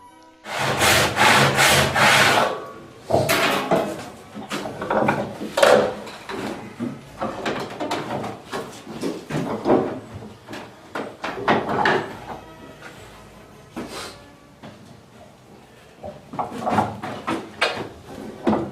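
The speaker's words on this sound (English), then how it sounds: "Using a pot auger to bore a hole in a piece for our weavers." A hand-turned pot auger bores a hole in a wooden piece in a colonial wheelwright's shop, producing repeated rasping, grinding strokes in uneven bursts that are loud and close, with short pauses between turns.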